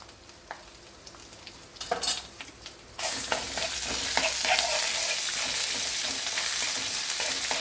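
Ginger garlic paste and turmeric hit hot oil in a pan and sizzle; a few stirring scrapes come first, then a loud, steady frying hiss takes over and holds to the end.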